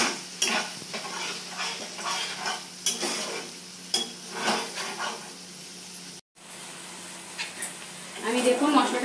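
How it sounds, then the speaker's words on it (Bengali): Spices for a niramish cauliflower curry, made without onion or garlic, are stir-fried in a pan with rhythmic scraping strokes over a low sizzle. A brief dropout breaks the sound, and a voice is heard nearby. "এই মশলাগুলো ভালো করে কষে নেব"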